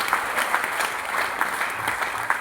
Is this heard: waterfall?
no